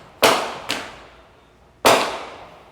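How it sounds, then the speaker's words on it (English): Three fireworks burst one after another, sharp cracking bangs with short decaying tails, fairly close, separated by brief quiet gaps. "Fireworks!"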